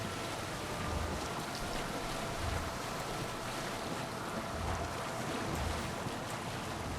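A sailing ship in Assassin's Creed Odyssey ploughs into waves at sea: a steady, loud wash of water and wind rushes throughout, with heavier swells surging and crashing every second or two, alone with no voices.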